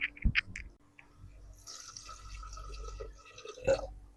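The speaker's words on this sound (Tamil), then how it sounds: "ஒரு கிளாஸ் தண்ணி ஊற்றிட்டு மூடி போட போகிறோம்" Water pours steadily into a pot of chicken curry for a couple of seconds, a splashy rushing sound, bracketed by a few clinks and brief handling noises.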